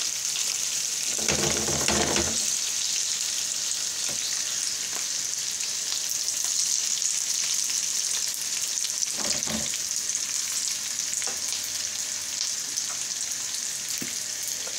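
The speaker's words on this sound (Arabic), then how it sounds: "البطاطا هي بدات كتحمر واحد شويه" Potatoes frying in oil in a skillet, giving a steady, dense sizzle throughout with a few brief scraping stirs, close and fairly loud, with no voices.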